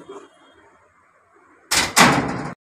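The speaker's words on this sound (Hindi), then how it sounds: "दरवाजा लगा दो, मेन दरवाजा।" A main front door closes with a loud, close thud: a brief scrape then two heavy knocks in quick succession after a few seconds of quiet household room tone.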